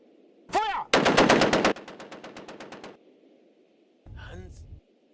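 Bursts of machine gun fire in a Lego cartoon: a long rapid rattle of shots that trails into quieter spaced reports, followed later by a brief second burst, with a short voice shout before the firing.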